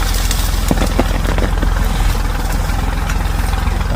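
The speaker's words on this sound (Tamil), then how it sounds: "டிராக்டர் வந்து போகுது" A tractor engine running steadily and loud nearby with a continuous low throb and rhythmic pulsing, vibration dominating throughout without pause.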